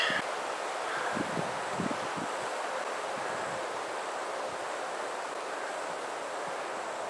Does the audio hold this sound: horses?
no